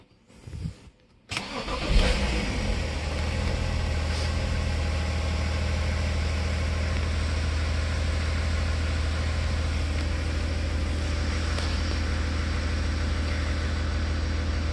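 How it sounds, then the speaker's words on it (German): A BMW 5 Series E60 starts after an alternator replacement, with a short crank and catch about a second in, then settles into a steady, even idle that runs close and unbroken with no talking. "dann können wir einmal das Fahrzeug starten und gucken"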